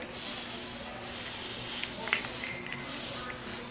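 A hot custom copper refrigeration pipe dipped into water gives off a continuous loud steam hiss, with a few faint clinks partway through.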